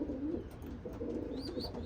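Racing pigeons coo softly in a loft, with low, throaty, rolling calls repeating close by, alone and fairly quiet, accompanied by a few faint higher chirps.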